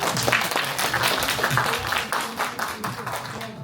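An audience at a multicultural seminar in Incheon claps to welcome a speaker, brisk continuous applause with distinct individual claps close by, steady throughout.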